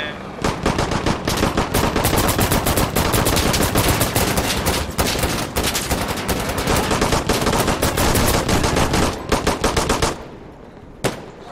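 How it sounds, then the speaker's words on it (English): Gunfire in the video game Insurgency Sandstorm rattles in long, loud, near bursts of rapid automatic shots that run almost continuously for about ten seconds, then a lone final shot after a short pause. "I just started shooting randomly"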